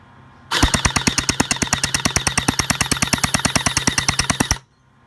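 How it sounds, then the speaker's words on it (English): A WELL M4 airsoft rifle fires on full auto: a rapid, even burst of sharp mechanical shots at about nine per second, lasting roughly four seconds, close and loud, with no talking. "So now it's time to check the rate of fire."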